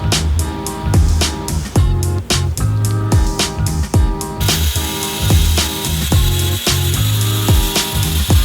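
A bandsaw cuts sheet metal for a hood scoop on a lifted Miata, giving a steady, close mechanical rasp with a rapid, regular clatter throughout.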